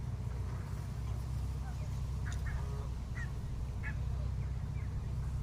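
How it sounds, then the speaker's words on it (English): A few short duck quacks at a fishing spot sound faint and somewhat distant, scattered over a steady low rumble of outdoor background noise. "I thought the ducks would be more interested in me throwing stuff in, but they haven't really gone for it"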